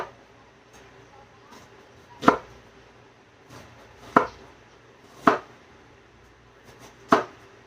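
A knife chops vegetables for salsa on a cutting board, four or five distinct, well-spaced thuds against a quiet room background.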